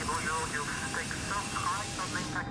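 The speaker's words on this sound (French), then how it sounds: "on va faire volontairement une erreur dans la vitesse de décollage de l'avion" An Airbus A380 jet roars steadily during a low-speed takeoff test, a constant engine rumble beneath a voice talking over it.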